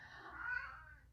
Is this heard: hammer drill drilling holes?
no